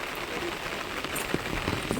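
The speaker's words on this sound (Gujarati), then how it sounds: "જો સામે જો જો કેટલો બધો વરસાદ પડે" Heavy winter rain falls in a steady, dense hiss that continues without a break, with a few slightly louder drop impacts near the end.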